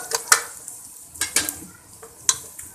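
Crushed ginger and garlic frying with browned onions in a pan, stirred in quick scrapes and clatters over a soft sizzle, a handful of sharp utensil strikes against the metal.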